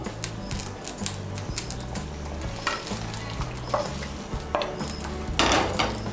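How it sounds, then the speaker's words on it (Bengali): Fried besan dhokas stirred into simmering gravy in a pan: a soft bubbling sizzle with repeated spoon scrapes and clinks against the pot, over background music. "এখন এর মধ্যে দিয়ে দেব ভেজে রাখা ধোকাগুলো"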